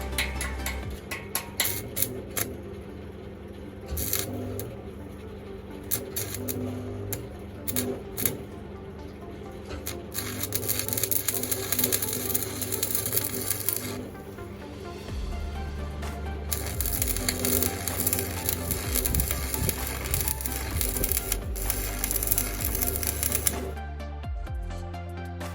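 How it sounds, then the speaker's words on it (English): Stick welding while tacking together a budget garage build, a close, continuous crackling sizzle that runs in spurts and stops, with clattering and handling noises between the arcs. "Put a new rod on and then burn the rest of it in."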